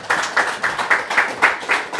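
Audience clapping at a conference meeting in a hall, a steady patter of applause with rhythmic peaks, moderately close, no talk over it.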